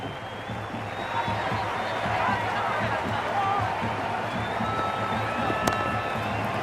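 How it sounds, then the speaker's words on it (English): A large cricket stadium crowd at an IPL T20 match between Gujarat Titans and Mumbai Indians in the Cricket 26 video game, a sustained roar of cheering with a sharp accent near the end, under a commentator's voice. "It's evident and ever so audible that the crowd is at near bursting point at today's play"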